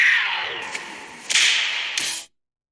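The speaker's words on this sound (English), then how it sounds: "Name a more iconic whip crack." A whip crack sound effect: sharp, loud cracks with swishing tails, three quick snaps spread across about two seconds, heard on its own with no talking, then silence.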